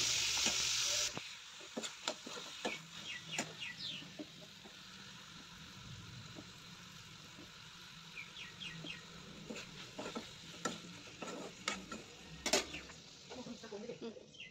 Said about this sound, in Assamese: এতিয়া কাটি ৰখা বিলাহীখিনি দি দিছোঁ আৰু বিলাহীখিনি অকণমান ভাজি ল'ম